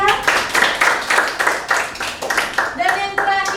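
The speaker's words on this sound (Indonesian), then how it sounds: "Tepuk tangan untuk kelompok 3." Pupils in a school classroom clap for a student group, the hand claps coming in a quick, patterned rhythm of bursts with young voices chanting or calling along, close and fairly loud.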